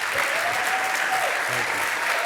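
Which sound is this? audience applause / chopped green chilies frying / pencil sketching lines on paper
audience applause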